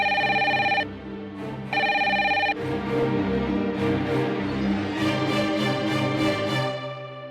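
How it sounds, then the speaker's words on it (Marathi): A household telephone bell rings loudly in two close, evenly spaced bursts during a domestic drama scene, then gives way to background music. "अरे बाळा, पहिला फोन तरी उचल"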